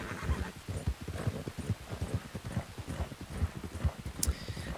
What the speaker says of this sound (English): I need to get this horse back home.